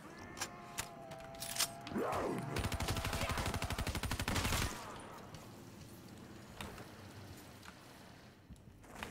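Rapid automatic gunfire fired at zombies in a video game, a dense burst of shots lasting a few seconds, with scattered single shots and game effects around it.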